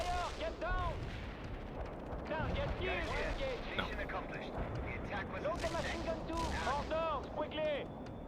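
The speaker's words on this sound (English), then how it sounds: "No, the machine gun too." Rapid gunfire and heavy battlefield blasts crackle densely and loudly throughout a military shooter video game, with voices talking over the din.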